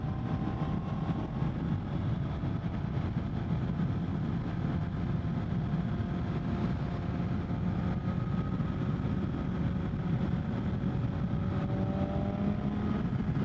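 A BMW M1000XR motorcycle engine drones steadily at speed with a low, continuous roar and rising pitch, heard close and constant throughout with wind rush and no talk.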